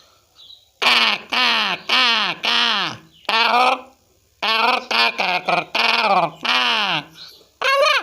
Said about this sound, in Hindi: उसकी आवाज़ कौवे का है